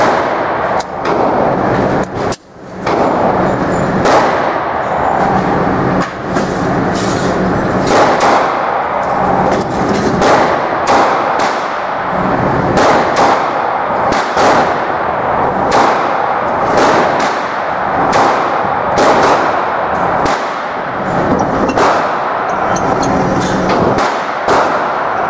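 Kel-Tec PF-9 9mm pistol firing Blazer aluminum full metal jacket rounds outdoors, many loud sharp gunshot reports in quick succession over about twenty-five seconds.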